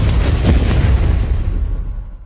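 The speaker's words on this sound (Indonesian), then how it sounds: "Simon memilih opsi terakhir, yaitu meledakkan bom yang sudah disiapkan sebelumnya" A film bomb blast booms in one heavy, sustained roar that swells loud and slowly decays over about two seconds.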